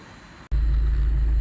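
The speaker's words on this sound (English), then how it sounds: "The car is running, as you can see, at idle" After a brief click, a car engine idles with a steady, deep, low hum that holds constant to the end.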